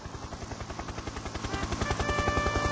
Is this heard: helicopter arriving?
yes